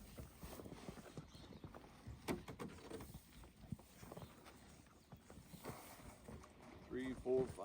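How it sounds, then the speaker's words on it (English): Horses come up to feed on fresh hay on a cold, snowy morning, with scattered hoof thuds and soft movement close by while a person talks over them. "Cold, snowy morning, and the horses come up, start eating fresh hay."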